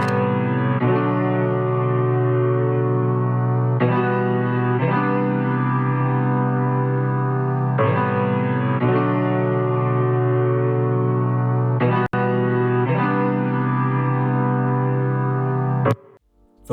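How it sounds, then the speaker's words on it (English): A piano melody played on a Mellotron, with slow sustained chords swelling and repeating in roughly four-second phrases, loud and warm with a wobbly, chorused tone, ending abruptly. "I pulled up Mellotron and played this piano."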